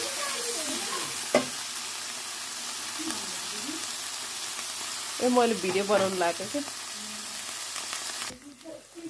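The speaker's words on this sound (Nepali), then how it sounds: "मेरो चाहिँ यो मसला मजाले भुट्यो हेर्नु।" Masala with three tomatoes sizzles and fries in a pan, a continuous hiss broken by scraping stirs, with someone talking over parts of it.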